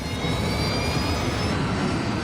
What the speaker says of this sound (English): The crew brings up power to the engines on the wings.